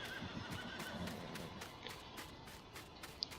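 Horse neighing inside Farming Simulator 19 on the Fenton Forest map, a whinny rising over steady game ambience with faint repeated soft thuds and no talk.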